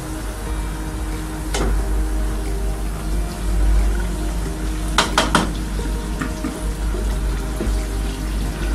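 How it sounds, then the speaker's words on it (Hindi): Water added to a pan of nearly cooked potatoes for a potato and spinach dish, heard as a steady watery wash with a few sharp metallic clinks of utensil against the pan, close and fairly loud. "अब मैं इसके अंदर अपना पानी ऐड करूँगी।"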